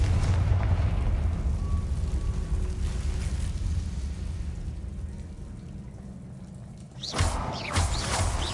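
A Confringo blasting spell goes off in Hogwarts Legacy, a sudden burst near the end following a long, low rumbling backdrop of game ambience.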